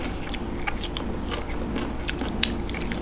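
Someone bites into and chews springy tako octopus dipped in seafood sauce, giving a run of small, close crunching and squelching clicks at an uneven pace over a soft background hum, with no talk.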